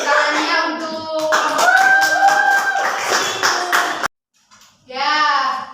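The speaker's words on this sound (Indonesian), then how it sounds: "beri tepuk tangannya untuk" Classroom applause from students during a micro-teaching session, with clapping mixed into bright children's and young voices, then a sudden brief silence before the voices pick up again.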